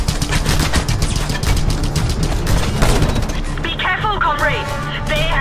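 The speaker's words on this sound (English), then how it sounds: "Comrade, they have sentry guns." Sentry guns in the video game Just Cause 2 fire in loud, rapid, continuous bursts with heavy booms. A voice speaks briefly near the end.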